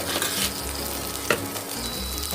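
Sliced liver stir-fries with chili and fried garlic in hot oil, giving a steady close sizzle with a few sharp spatter pops and faint scraping in the pan.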